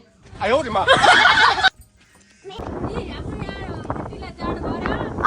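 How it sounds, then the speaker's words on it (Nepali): Loud gusty wind buffeting the microphone on an open trail to Sworek Maidan in Nepal, roaring in bursts with a brief lull, while people talk and laugh over it. "यहाँ लास्टै हावा चल्यो।"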